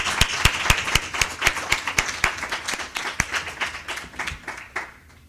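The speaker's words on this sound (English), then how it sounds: "So can we give her a round of applause?" A round of applause at a urology resident graduation celebration: distinct, fairly sparse hand claps in an uneven rhythm, loud at first, then thinning and fading out near the end.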